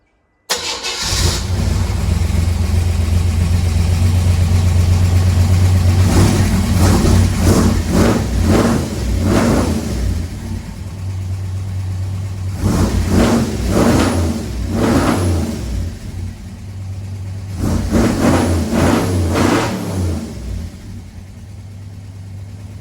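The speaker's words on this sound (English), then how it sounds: "So it started really easily, and it sounds better than I thought with this exhaust." An old car's engine cranks and catches, then revs repeatedly through its exhaust in loud bursts over a steady idle, running near and alone with no talking.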